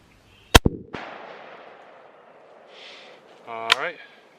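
A single 30-06 rifle shot cracks out sharply at a small tree, followed by a decaying rumble outdoors; a voice speaks briefly afterward.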